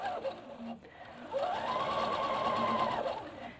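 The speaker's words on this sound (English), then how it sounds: "So very, very close stitch length, and stitch right on the roll line." A sewing machine runs a very short, close stitch along the roll line of a jacket, with a brief burst, a pause, then a steady, near whirring run of about two seconds.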